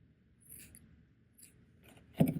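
Scissors snipping off loose yarn ends on a crocheted granny circle bookmark: a couple of faint, quick cuts, then one sharper, louder snip at the end, in a quiet room.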